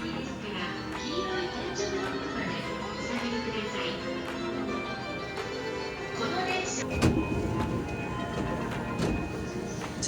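Passenger train running on a rail line in Japan, a steady rumbling roar with clattering and brief louder surges near the end, with people talking faintly underneath.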